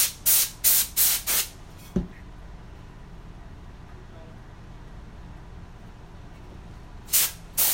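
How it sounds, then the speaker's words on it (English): A compressed air spray can hisses in a quick series of four short bursts, then a single blast, a long pause and two more bursts at the end, loud and close. "This is just compressed air."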